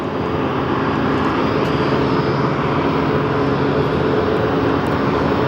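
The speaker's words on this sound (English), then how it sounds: "just departing is 737-800 going to Chicago O'Hare" A Boeing 737-800 jet departs Phoenix Sky Harbor, its engines giving a loud, continuous broadband roar that stays steady and unbroken throughout.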